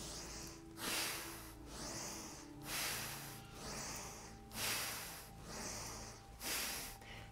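Slow, deep breaths in and out during a yoga breathing exercise, with six or seven broad rushing inhales and exhales in an even rhythm, close and fairly quiet, with no talking.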